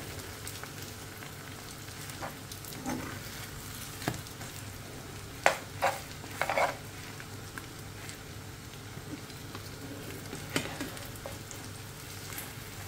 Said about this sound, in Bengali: এই যে এভাবে, এই যে এভাবে উল্টাই নেব পুরোটা ডিম।